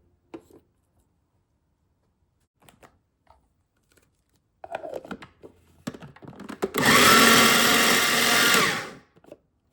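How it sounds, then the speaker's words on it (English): Small food processor pulsing chopped roast beef, preceded by quiet kitchen handling clatter, then one loud continuous whirring burst of about two seconds before stopping. "pulsing it in a small food processor like this one"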